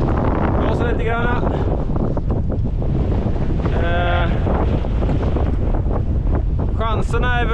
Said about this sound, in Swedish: Blåsa lite grann.